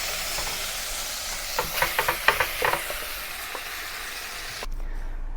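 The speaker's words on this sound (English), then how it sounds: "The purpose is to brown the beef, not to cook through the beef, in order to create extra flavor." Beef browning in a pan for goulash gives a steady close sizzle and hiss, with a few quick stirring scrapes in the middle before the sound drops away near the end.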